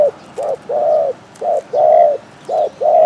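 A spotted dove used as a decoy calls repeatedly, loud and close, a rhythmic series of low hollow coos in short and longer phrases with brief gaps between, no talking.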